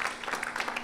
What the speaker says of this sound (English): We can give another round of clap.